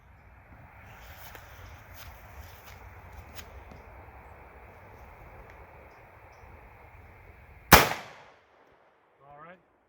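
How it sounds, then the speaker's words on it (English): A 300 Blackout rifle fires at steel plates. A single sharp, loud report cracks out after several seconds of low, steady background noise, then fades into near silence. "Let's shoot these plates here and hopefully not shoot the same spot."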